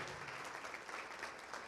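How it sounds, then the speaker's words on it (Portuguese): A church congregation applauding during a service, a steady, even spread of many hands clapping at once that sounds faint and distant. "Vamos aplaudir mais ao nome de Jesus."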